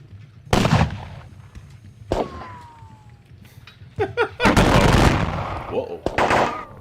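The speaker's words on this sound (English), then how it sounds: "I still hear shooting." Gunfire from a Napoleonic Waterloo war game: loud scattered musket shots crack out singly and in quick bursts, with voices mixed in among the reports.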